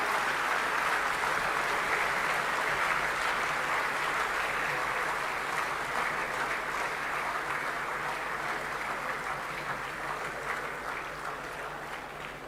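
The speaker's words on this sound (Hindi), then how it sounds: "जोरदार तालियों से स्वागत करें माननीय प्रधानमंत्री जी का" A large crowd greets the Prime Minister at an exhibition and convention centre inauguration with loud, sustained applause, a dense unbroken roar of clapping that fades slightly near the end.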